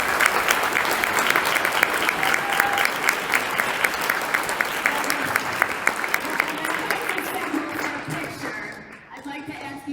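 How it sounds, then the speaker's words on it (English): An audience in a synagogue meeting gives a round of applause, loud sustained clapping that tapers off near the end as a voice emerges. "I'd like to ask you once more to boost them up by joining me in a round of applause."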